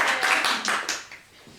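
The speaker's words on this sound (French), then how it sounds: "Burvan, on l'applaudit." Brief burst of clapping and applause from a festival audience, several quick rounds of hand claps that fade out over under two seconds, with faint voices underneath.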